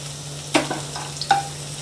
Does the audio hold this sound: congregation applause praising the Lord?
no